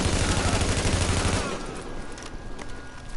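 Gunfire in The Division video game: a loud, dense burst of rapid automatic fire that cuts off after about a second and a half, followed by scattered quieter shots and game noise.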